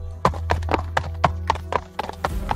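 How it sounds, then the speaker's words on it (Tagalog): Horses' hooves clip-clop in a steady, close rhythm as riders lead their mounts out of a yard, with about ten distinct hoof strikes over a low background hum and no talking. "At nagpatuloy na sila sa paglabas ng bakuran kasama ng kani-kanilang mga kabayo."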